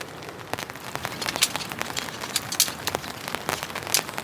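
Heavy rain drums on a tent during winter camping, a dense steady patter with sharper individual drop impacts scattered throughout, close and fairly loud with no voices.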